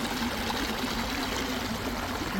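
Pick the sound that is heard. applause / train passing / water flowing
water flowing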